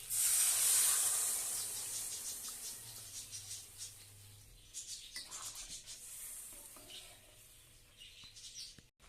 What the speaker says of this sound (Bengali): এটা ফুটে উঠে গেছে, এবার এটার মধ্যে ঢাকা দিয়ে দেবো।